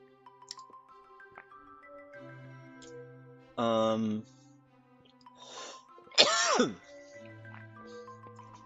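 Throat clearing and coughing from someone with fried Vietnamese lumpia caught in the throat, two short harsh bursts close to the microphone over quiet game music, with a brief sniff or breath between them.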